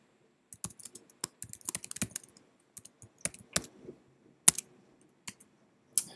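A terminal command being typed on a Mac computer keyboard, a close series of quick, irregular key clicks with short pauses between bursts and no one speaking.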